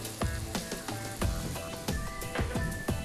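Green onions are stirred into a sizzling pan of berkoukes, with loud repeated scraping strokes of a spoon over a continuous close frying crackle, no voices.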